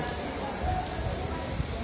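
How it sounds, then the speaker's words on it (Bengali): A heavy downpour rushes in a steady, moderately loud hiss, with a person's voice seeming to talk over the rain at times. "এই যে আমাদের এদিকে প্রচণ্ড বৃষ্টি হচ্ছে।"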